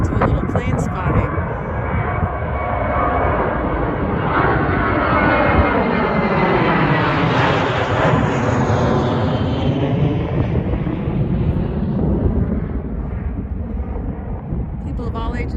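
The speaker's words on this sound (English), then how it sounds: "Watch the planes land and take off at the airport." A jet airliner roars past the runway at an airport beside the George Washington Memorial Parkway, with a loud, sustained engine rumble that swells and fades as it passes nearby.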